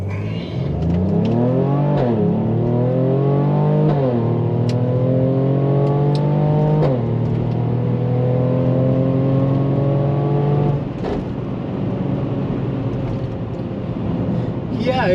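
A Mercedes GLE 43 AMG SUV accelerates hard from a standstill to 60, its engine note climbing steeply through several upshifts, dropping in pitch at each change before rising again, loud and close from inside the cabin.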